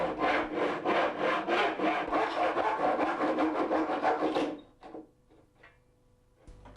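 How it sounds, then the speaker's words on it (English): A handsaw cutting a section out of a bath panel, rapid rhythmic back-and-forth strokes close up for about four and a half seconds, then stopping, followed by a few faint scrapes and knocks. "Now remove this section with a saw."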